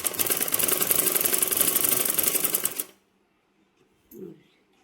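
A sewing machine stitches a sleeve joint on a garment in a rapid, steady, close mechanical whir for about three seconds, then stops abruptly, followed by silence and a brief soft thump.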